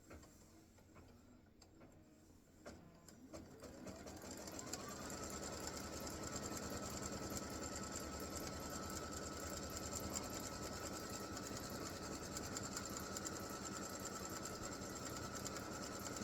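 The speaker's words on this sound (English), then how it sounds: "color stop number 10 is your placement stitch for your hat" An embroidery sewing machine stitches a placement outline for a hat applique, starting up after a few quiet seconds and then running in a fast, steady mechanical rattle, close and continuous.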